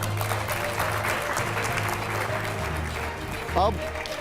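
Studio audience applause during a Hindi TV9 Delhi NCR news debate, a steady wash of clapping held at even loudness throughout, with a brief voice breaking through near the end.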